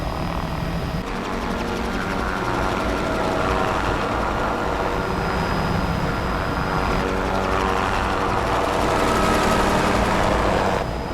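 A helicopter flies overhead during a rhino darting operation in Kenya, its steady rotor and engine roar loud and continuous throughout with no talking.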